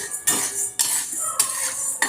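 Sago roasting in a pan, stirred continuously with a metal spoon, giving four sharp scraping clinks against the pan at roughly even intervals, each followed by a soft rustling of the grains.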